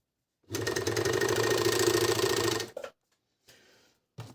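A Phiolent 151-4D four-thread overlock machine runs a steady loud whirring burst of about two seconds while stitching three layers of felt, then stops with a few short clunks and faint handling noises.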